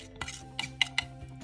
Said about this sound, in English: you're going to dump your cup of baking soda into a bowl using a spoon